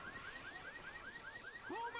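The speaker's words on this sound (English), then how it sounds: "They do trigger the car alarm before they fight tank." A car alarm set off in a Left 4 Dead-style co-op shooter wails in a steady repeating whoop, cycling rapidly and continuously at moderate loudness, with a higher sweeping tone rising near the end.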